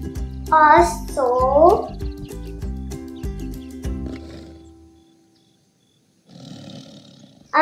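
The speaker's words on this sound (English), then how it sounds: "T for tiger." A tiger roars in two loud, close growling bursts within a repeating cartoon-style musical backing, which then fades before a short breathy noise at the end.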